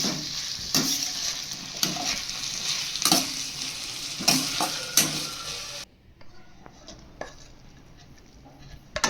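Salted paneer fried rice ingredients are stirred in a pan over sizzling heat, with repeated spatula scrapes and clinks against the pan; the sizzle drops away partway and quieter scraping continues.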